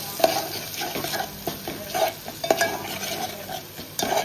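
Chana masala with Agri and garam masala being stirred in a pan, with close scraping and clinking strokes of a spoon over a soft steady sizzle, no talking.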